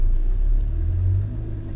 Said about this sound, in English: I applied a little more force to the gas and pressed on